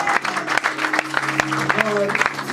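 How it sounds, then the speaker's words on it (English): Church convention congregation clapping hands for Jesus Christ, a steady scatter of claps under a loud voice and crowd noise. "Can you clap your hands for Jesus Christ?"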